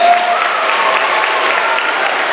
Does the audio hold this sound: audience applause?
yes